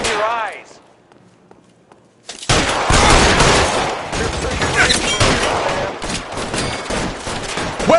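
Rapid gunfire in a shootout from the video game LA Noire, bursts of shots crackling loud and dense after a short quiet lead-in with a brief voice, continuing without pause to the end.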